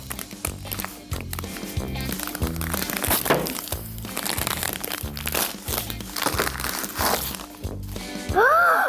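A LOL Surprise Hair Goals toy gift box is torn open: close, busy crinkling and cracking of packaging with sharp snaps, under light background music, ending in a brief rising squeal.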